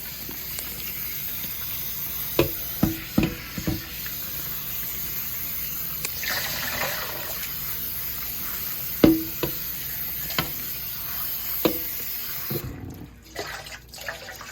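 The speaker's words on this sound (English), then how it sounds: "I'm just gonna wash my corn off over at the sink here" Corn rinsed under a kitchen sink tap, a steady hiss of running water with scattered sharp knocks and bumps as the cobs are handled, close by with no talking.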